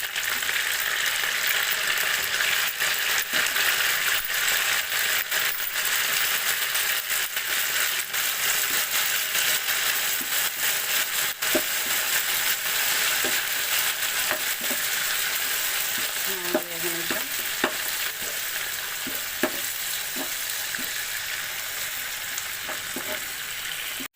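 Mint and green chillies sizzle loudly in a hot pan for soya palau, a steady crackling hiss with occasional scrapes of stirring throughout.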